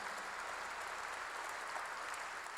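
A church congregation claps together in dense, even applause that holds steady for a couple of seconds, moderately distant and filling the room with no voices on top.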